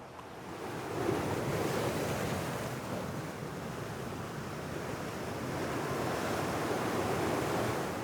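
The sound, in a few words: ocean waves pounding rocks along the Malecón seafront in Baracoa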